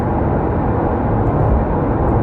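A fixed-wing airplane takes off in the distance, a steady broadband engine roar filling the scene at constant loudness with no talking.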